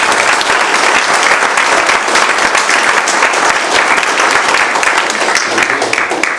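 A room full of people applauding at an Eagle Scout court of honor, dense sustained clapping that stays loud throughout.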